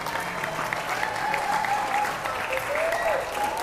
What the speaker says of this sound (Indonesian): Tepuk tangan dong buat teman-teman yang udah nyantri